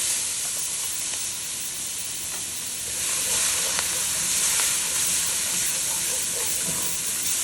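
Chopped onion and green onion whites hit a hot pan for Caribbean-style curry chicken, giving a steady loud sizzle and hiss that swells midway and continues without talking.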